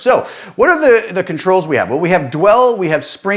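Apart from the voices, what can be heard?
No distinct noise like a dog, phone or traffic.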